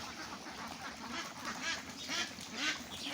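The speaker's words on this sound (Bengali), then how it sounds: "দেখেন হাঁসগুলো কি সুন্দর বেরোয় যাইতেছে" Khaki Campbell ducks quack in a steady stream of overlapping calls as the flock heads out, some of them close, with no voices over the calls.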